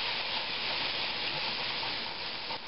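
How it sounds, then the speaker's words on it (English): Sherry hits a hot pan to deglaze it for mushroom-chicken soup, giving a loud, close, continuous sizzle and hiss that holds steady for a couple of seconds. "now I'm going to deglaze this pan with a little bit of sherry"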